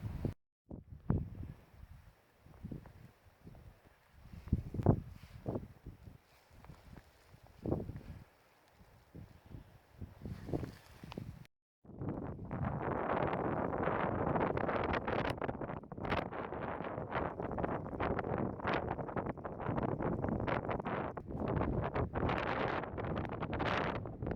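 Strong wind gusts across open Dartmoor moorland, starting as intermittent buffeting bursts then turning into a loud, continuous roar against the microphone for the second half.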